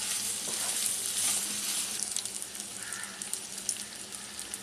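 Salted vegetables, peas and carrots for a pulao, fry in a pan with a soft, continuous hiss and light crackle, fairly quiet and close, with occasional faint scraping of stirring.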